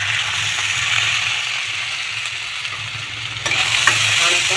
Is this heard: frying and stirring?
yes